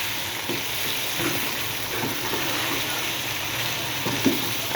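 Whole spices and white cumin frying in a pot for restaurant-style Chinese rice, a steady close sizzle with occasional stirring scrapes and clinks throughout, no talk.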